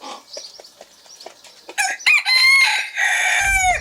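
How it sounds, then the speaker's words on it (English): A cockerel crows loudly and close by, one long full crow lasting a couple of seconds, after softer clucking and scratching sounds in a farmyard. "A lot of people think that cockerels just crow in the morning. Believe me, Spike crows all day long."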